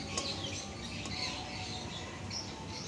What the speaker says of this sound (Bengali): বারান্দায় রান্না করছি পাখির কিচিরমিচির ডাকের শব্দ